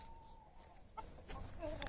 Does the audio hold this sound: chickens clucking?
yes